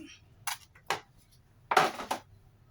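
Sugar spooned into a bowl while making a Thai squid and mango salad, heard as a few quiet, separate clinks and scrapes of a spoon against the dish.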